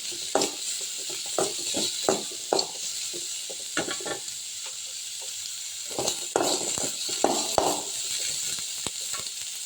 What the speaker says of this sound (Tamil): வெங்காயம் வதங்கின அப்புறம் நம்ம பாகக்காயை சேர்த்துக்கலாம்.